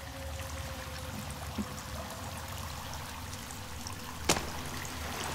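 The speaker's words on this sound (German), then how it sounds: "Wasserfall?" Waterfall in the video game The Forest, a steady rushing stream of falling water throughout, with a faint tone and a sharp click near the end.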